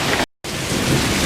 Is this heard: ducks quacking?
no